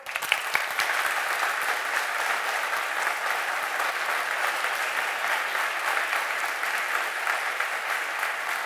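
An audience at a full-house comedy show in Berlin claps loudly and steadily, sustained applause filling the room without letting up.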